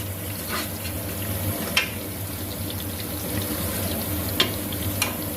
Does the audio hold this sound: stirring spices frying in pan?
yes